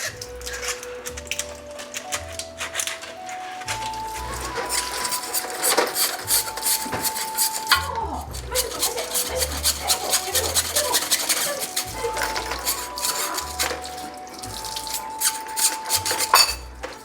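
A hose brush scrubs through an aquarium drain pipe while hot water runs, giving a continuous close rasping and rubbing with clinking and sloshing over steady background music.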